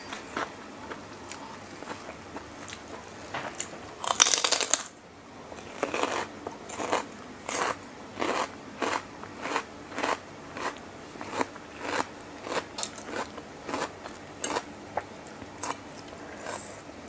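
Loud crunchy bites into fresh vegetables while eating a salmon and seafood rice-noodle salad, recorded close for ASMR: a steady run of crisp crunches and chewing about once a second, with one louder, longer crunch early on.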